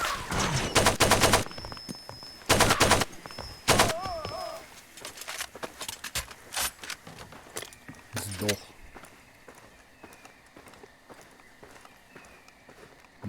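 Bursts of rapid gunfire ring out in several volleys in Far Cry 2, with footsteps and game sounds between and quieter shuffling toward the end.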